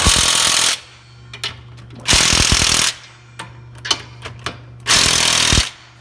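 An impact tool hammers loudly in three rapid bursts while bolting a Ford 8.8 axle into a Jeep Cherokee XJ, with a steady low hum and scattered clanks in the pauses between bursts.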